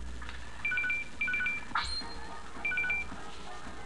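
Repeating electronic phone ringtone in the game OFF, Zone 3, sounding in short two-tone bursts three times, with a brief rising chirp between them over low background hum; no talking.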